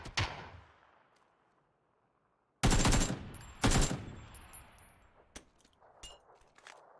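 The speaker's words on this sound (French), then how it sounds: "Oh, oh, ça tire derrière en fait." Gunfire in the battle royale game PUBG: after a quiet pause, two loud bursts of shots ring out close by with metallic clangs, followed by scattered lighter pops and clicks.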